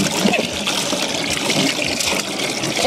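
Water is poured for thirsty goats on a maize farm, making a close, continuous splashing trickle that fills a container, steady and fairly loud, with no speech.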